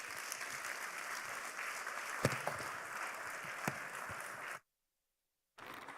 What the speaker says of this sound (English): A round of applause for the Cadiz evangelist, Mr. Poku Efriye As